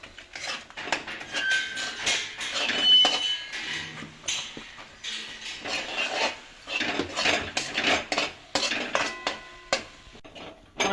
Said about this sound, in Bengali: এভাবে গুঁড়ো দিয়ে আস্তে আস্তে মেশাতে থাকবো।